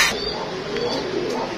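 Fancy pigeons in a loft, a soft low coo rising briefly against a muffled indoor background.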